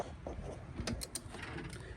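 Wheel fastener being tightened during wheel and tire work, giving a short burst of faint mechanical clicks and ratcheting near the middle over a low background hum.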